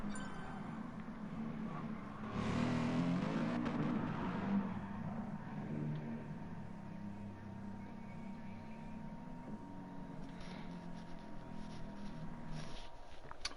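Mercedes SLS AMG GT4 race cars lapping a track in the GT Sport video game, six cars running: a steady engine drone swells briefly near the start, then settles into a continuous mid-level hum with no talk.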